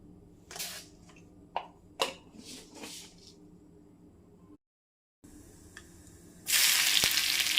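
Small chopped shallots drop into hot oil for a Kerala-style yam curry, first a few scattered crackles and pops, a brief silence, then a sudden loud, continuous close sizzle as they hit the pan.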